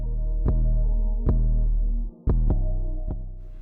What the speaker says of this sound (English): I'm using my Wahl Seniors with the Andis clip-on comb size 1.